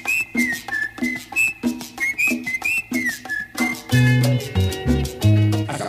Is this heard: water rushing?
no